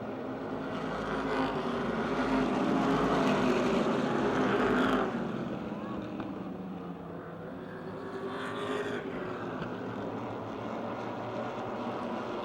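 Stock race cars roar around the Motordrome Speedway oval, a dense continuous engine drone that swells as the pack passes close by and then eases into a steady distant rumble.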